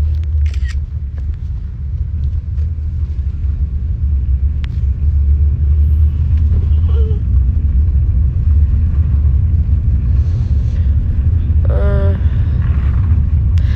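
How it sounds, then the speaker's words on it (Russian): Car interior while driving home, a steady low engine and road rumble throughout, loud and continuous, with a few faint clicks and a brief higher tone near the end. "Мы едем домой, мы почти подъезжаем."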